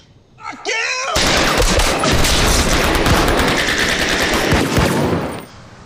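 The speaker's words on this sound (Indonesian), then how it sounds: "Melihat adanya tembakan" Rapid bursts of automatic gunfire erupt after a brief moment, loud and sustained for several seconds before stopping abruptly.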